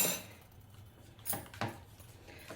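Fenugreek powder being stirred into aloe vera gel in a bowl, with a few soft, close spoon knocks and scrapes against the bowl amid quiet.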